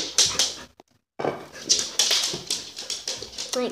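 A dog whimpers and whines close by in a dark space, a few short, soft cries broken by a brief silent gap, with some rustling around it.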